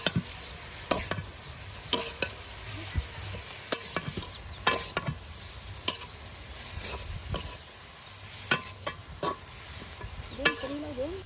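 Fresh garden-picked radish greens stir-fried in a pan, with repeated sharp spatula scrapes and clacks at irregular intervals over a soft sizzling background, close and fairly loud.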